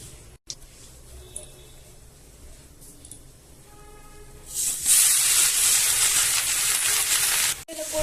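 Grated carrots dropped into hot ghee for gajar halwa, a few quiet clinks and knocks, then a sudden loud, broad sizzle that hisses steadily for about three seconds, briefly cuts off, and starts again.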